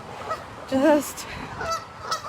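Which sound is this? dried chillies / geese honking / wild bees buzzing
geese honking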